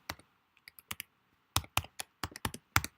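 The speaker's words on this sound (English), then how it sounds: "We're going to type in our accept, and we're going to type in keyboard" Close, crisp keystrokes on a computer keyboard: a few sparse taps at first, then a quicker irregular run of about eight sharp clicks as a word is typed, with quiet gaps between.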